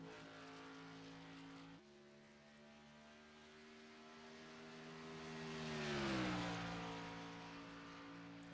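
A race car laps at Homestead in a racing video game, a steady engine drone with harmonic whine that rises and swoops as it passes close, then settles again.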